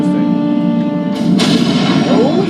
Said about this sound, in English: Oh yeah, fireworks!